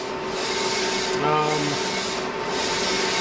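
Large format DTF printer, about 13 inches wide, running steadily through a print job, a continuous mechanical hum and whirr with a brief tonal carriage sweep midway, fairly loud and close throughout.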